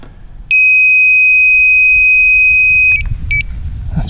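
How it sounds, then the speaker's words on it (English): A carpentry measuring tool's electronic beeper gives one long, loud, steady high-pitched tone lasting about two and a half seconds, then a short second beep, over a faint rough background at a framing site. "let me turn on the beeper"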